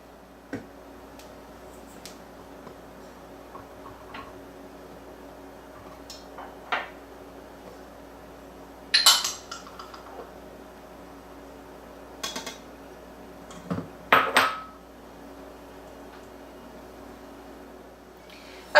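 Dry cake ingredients of flour, baking soda and unsweetened cocoa powder are stirred by hand in a mixing bowl, giving sparse light taps and scrapes against the bowl with a few louder clinks over a quiet room.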